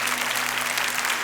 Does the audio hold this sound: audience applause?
yes